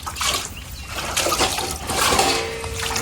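Rainwater trickles and splashes into a drinking glass, an uneven close pour with a rising filling tone toward the end.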